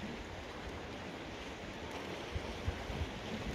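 Sea waves at Keramoto beach roll in a steady, close wash of surf mixed with wind noise on the microphone, with a few low thumps near the end and no talking.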